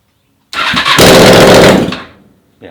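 Honda CBR/VFR hybrid motorcycle engine with no exhaust fitted cranks briefly, then catches and roars loudly for about a second before dropping off, raw and close, followed by a short burst of noise.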